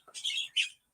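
A pet parrot gives two quick, bright chirps close by, a longer chattering note followed by a sharper short one, with a faint click at the very end.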